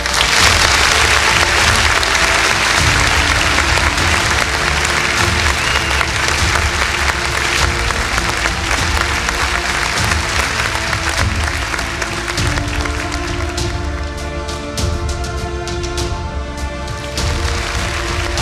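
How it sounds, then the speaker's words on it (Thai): Loud, sustained applause from a large audience at the opening ceremony of the 45th Bangkok International Motor Show 2024, continuing steadily with booming music or a low drone underneath and no speech over it. "ขอเสียงปรบมือดังๆด้วยครับ"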